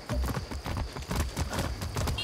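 Horse hooves clip-clop in a steady, rapid rhythm while riding in the video game Far Cry 6, close and fairly loud, with a brief whinny-like touch and busy game ambience around it.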